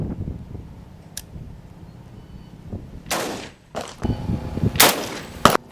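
Two sharp, loud 6.8 SPC rifle shots from a Silver State Armory rifle with a 20-inch barrel, firing 85 grain Barnes TSX rounds at an AMI TAC 3S steel plate outdoors; the reports are about two seconds apart over low background rumble.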